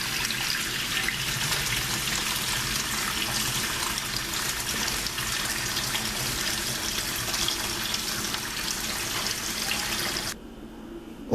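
Hot macaroni pours from a pot into a sink strainer, with steady, loud rushing and splashing water for about ten seconds before it stops abruptly.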